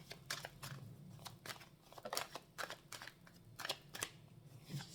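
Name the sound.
shuffling tarot cards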